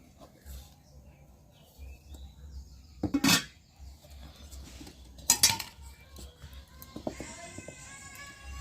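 A cooking pot of boiled vegetables for khichuri is lifted off the stove and covered, with two sharp metallic clanks of pot and lid standing out against quiet kitchen background.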